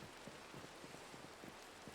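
Steady rain falling at night in Minecraft, a dense even hiss of drops with faint soft patters throughout, no voices.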